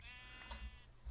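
A single sheep bleats in the Minecraft video game, the sheep herded into minecarts: one short wavering bleat, faint and close, lasting under a second.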